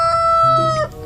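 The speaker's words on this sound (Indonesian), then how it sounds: "Ini ada ayam berkokok." Toy rooster giving one short electronic cock-a-doodle-doo crow, loud, close and alone, lasting about a second.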